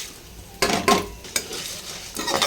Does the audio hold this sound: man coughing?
no